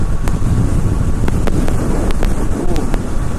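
Wind buffets the microphone of a motorcycle rider crossing a bridge in Tokyo, a steady, loud rumbling roar that runs unbroken, with a few faint clicks over it.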